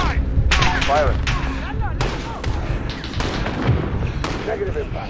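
Rapid gunfire bursts and heavy impacts from the video game Modern Warfare (2019), in a US embassy siege scene, sound loud and close, with shouted radio-style talk over the shooting.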